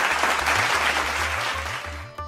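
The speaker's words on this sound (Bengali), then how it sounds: "একবার জোরে হাততালি সবাই অনির্বাণ বাবুর জন্য।" An audience at a stage event bursts into loud, sustained applause as a teacher is invited up, dense clapping that fades toward the end over a low electrical hum.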